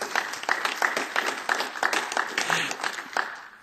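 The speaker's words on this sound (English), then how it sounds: "Great big round of applause for Steve." Applause at a meeting as a newly elected vice chair comes forward, a steady round of many hands clapping in a room, moderately loud and continuing throughout.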